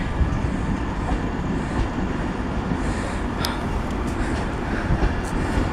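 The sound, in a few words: train departing Peterborough station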